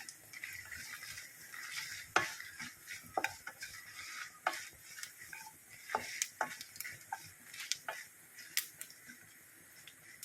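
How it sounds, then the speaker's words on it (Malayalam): Mustard seeds splutter in hot oil while being tempered for a Kerala ginger curry. Sharp, irregular pops and crackles come in quick bursts over a faint sizzle, close and fairly quiet. "കടുകെല്ലാം പൊട്ടി തുടങ്ങിയിട്ടുണ്ട്"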